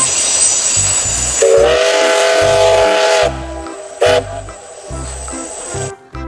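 A Thomas toy train runs along with a steady mechanical rattle and a looping electronic whistle tune, loud and close, with a short toot near the end.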